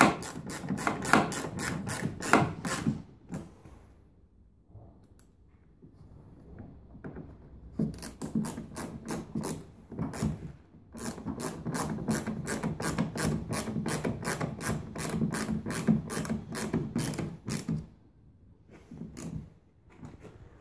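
Repeated clicking ratchet bursts as screws go back into a rear bumper cover on a VW Sharan 7N, several close rapid runs separated by short pauses.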